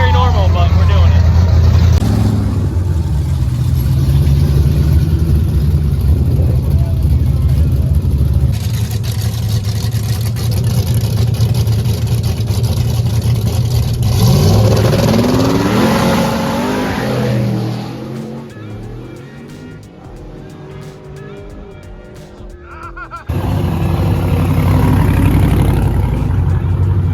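A Savoy drag race car roars loudly through a pass at Roadkill Nights 2023. The engine revs and surges, dips briefly near the end, then swells again, with voices talking over parts of it.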